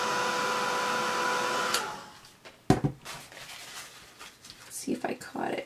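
A heat tool blows steadily while drying distress paint, a close, even rushing whoosh that cuts off after about two seconds, followed by quiet tapping and handling noises.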